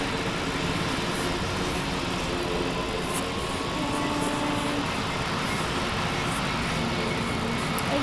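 Aircraft engine drone while flying a plane in the video game PTFS, a steady, even roar that holds at one level throughout with no talking.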